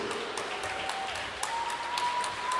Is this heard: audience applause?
yes